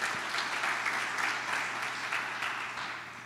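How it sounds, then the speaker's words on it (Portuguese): A church congregation applauds during a Sunday sermon, sustained clapping from many hands filling the room at steady volume, then fading slightly toward the end. "Dá um aplauso ao Senhor"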